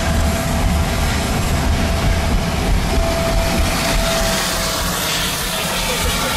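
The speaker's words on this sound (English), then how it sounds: "that noise, by the way, is the auxiliary power unit" Loud, constant mechanical roar with a steady whine on top, an aircraft auxiliary power unit running close by without pause on the airside ramp at Toronto Pearson airport.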